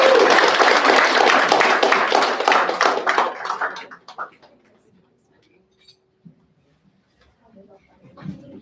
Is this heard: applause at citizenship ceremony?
yes